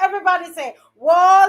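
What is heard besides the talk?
No everyday noise stands out behind the speech.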